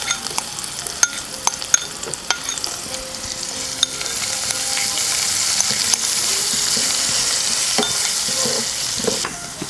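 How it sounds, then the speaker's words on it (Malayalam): Sliced onion fries in a pan for a carrot and potato stir-fry, with a close, continuous sizzle broken by frequent sharp scrapes and clicks as it is stirred, and no speech. "അതും കൂടെ നമുക്കിതിലേക്ക് ചേർത്ത് കൊടുത്ത് നന്നായിട്ടൊന്ന് വഴന്നു വരുന്നവരെ നമുക്ക് ഇളക്കി കൊടുക്കാം"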